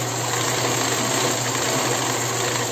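A domestic sewing machine runs steadily, stitching cotton fabric for underwear with a straight stitch, a loud, continuous close mechanical whir with no breaks.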